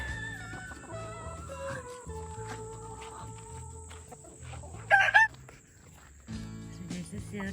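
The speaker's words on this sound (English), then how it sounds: "There's all my crazy birds." Chickens cluck and crow in a farmyard flock, their calls repeating in short bursts at close range, with one louder squawk partway through.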